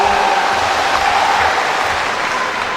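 Audience clapping fills a large university gymnasium during a provincial governor candidate primary debate, a steady dense wash of applause lasting throughout without pause.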